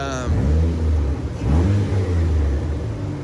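Turbocharged drift car engine revving on a dyno at about a bar of boost, loud and close, with the pitch climbing and holding in a sustained roar.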